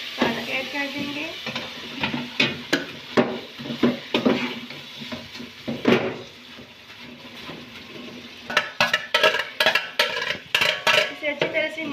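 Spinach goes into a sizzling tomato masala in a pan and gets stirred, with repeated scraping clinks of a spoon against metal over steady frying hiss, loud and close, pausing briefly before a quicker burst of stirring.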